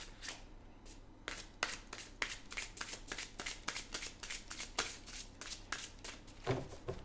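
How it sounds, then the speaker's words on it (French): Tarot deck being shuffled by hand at close range, with a rapid run of crisp riffling card flicks after a brief quiet start, fairly soft overall. "je vais prendre un autre jeu et je vais vous tirer une carte"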